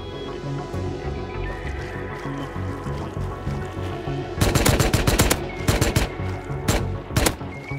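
Rust video game gunfire: rapid bursts of loud shots over a steady droning background, several volleys in quick succession near the end.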